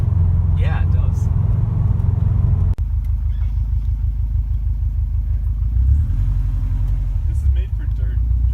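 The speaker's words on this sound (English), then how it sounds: "Nice Subi rumble. Not too loud though." A 2013 Subaru STI idles and revs with a deep, steady engine rumble close by, a slight whine riding on it, while people talk over the sound.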